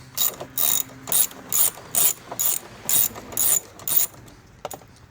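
Ratchet backing bolts out of a box mounted on a 2.0 L Suzuki Forenza engine, a steady series of about ten loud, evenly spaced clicking bursts up close, then a brief faint tap.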